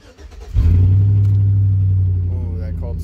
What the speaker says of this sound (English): I'm gonna go ahead and start the truck, let it warm up before we go ahead and work on it